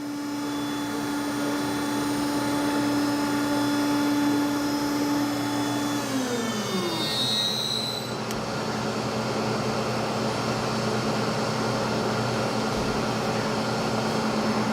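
A Multicam 3-axis CNC router's 25 horsepower, 24,000 RPM spindle runs with a loud, steady mechanical whine; its pitch sweeps upward around six seconds as the spindle ramps up, then it settles into a constant high drone with no talking.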